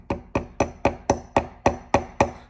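A hammer taps a roll pin into a steering wheel boss with nine evenly spaced, crisp metallic strikes, close up and steady in rhythm.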